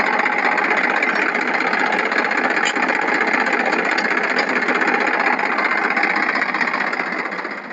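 A loud, steady Massey tractor engine drone with a rapid mechanical chatter runs continuously, close and unchanging, fading slightly at the very end.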